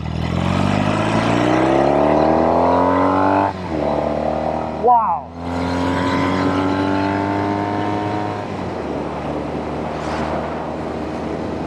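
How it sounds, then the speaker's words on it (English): A Norton Commando 850 Roadster motorcycle engine revs up loud and close, pitch climbing steadily, drops off, then roars up again; a voice briefly exclaims between the pulls. "Let's go make some noise."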